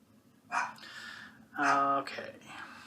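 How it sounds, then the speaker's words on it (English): A dog gives a couple of short barks and yips indoors, close by, reacting to something outside; two distinct bursts with a quieter whine between. "The dog, he's heard something outside."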